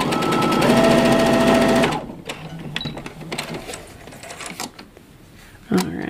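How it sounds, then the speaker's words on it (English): A sewing machine runs in a fast, loud, continuous burst of stitching for about two seconds, then stops. Quieter handling clicks and rustles of fabric follow, close to the microphone. "If I turn my machine on and I just start sewing"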